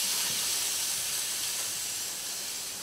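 Beef rib sizzling as it sears over hot embers, a steady, loud broadband hiss that continues unbroken with no voices.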